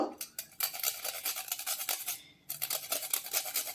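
Nutmeg grated by hand, a rapid run of close rasping strokes that pauses briefly, then resumes at the same brisk rhythm.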